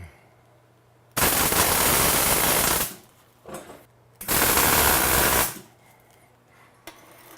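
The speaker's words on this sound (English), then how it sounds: "We're going to weld this up right here." A steel ring is welded up, with two sustained bursts of harsh crackling buzz, each lasting over a second, close and loud, separated by a short quiet gap with faint clatter.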